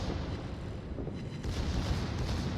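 Secondary guns on the Großer Kurfürst battleship in World of Warships blast away in a continuous rumbling barrage of overlapping booms, heavy and low, growing slightly louder midway.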